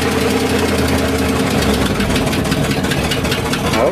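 A 1978 International Loadstar school bus with a Carpenter body idles close by, its engine a loud, steady, slightly rough rumble with a knocking undertone throughout.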